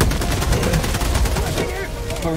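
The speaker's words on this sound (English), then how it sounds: "Is it the machine gun or the Gatling gun? The Gatling gun." Rapid gunfire from a Gatling gun in a video game crackles densely and continuously, with excited players talking over the shooting.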